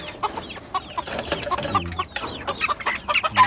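Small flock of native free-range backyard chickens clucking close by in repeated short bursts, with overlapping calls and faint movement throughout.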